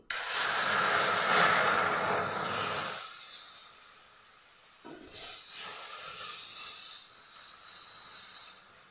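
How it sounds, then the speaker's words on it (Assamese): Loud hiss as milk is poured into a hot wok while making rice-flour barfi, strong for about three seconds, then a softer, steady simmering hiss to the end, with no voices. "মই একেখন কেৰাহীতে গাখীৰখিনি দি দিম"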